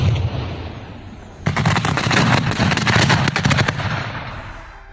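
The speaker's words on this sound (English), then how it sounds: "A Russian soldier filmed the moment of the close arrival of a cluster munition near Klishchivka" A cluster munition strikes close by near Klishchivka, a dense burst of many sharp cracking detonations rattling in rapid succession over a constant rumble, loud and near.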